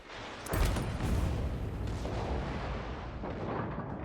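Naval guns fire in the World of Warships: Legends game, a heavy booming blast followed by a sustained rumbling roar of shellfire and explosions, loud and dense with no talking.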